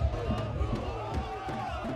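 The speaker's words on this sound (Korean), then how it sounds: "일당백의 기운으로 함성을 외쳐온 우리 응원단, 오늘도 일찌감치 기선제압에 나섰습니다" Korean football fans at Education City Stadium roar and shout together in a dense, continuous crowd din with rising cheers, close and loud, with voices mixed through it.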